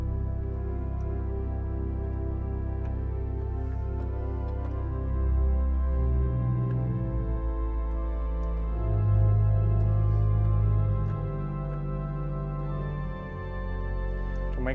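Pipe organ at Christ Lutheran in Baltimore with the Voix Celeste stop added to a soft Salicional, giving a gently wavering, floating sustained chord that plays steadily and quietly, with shifting bass notes beneath.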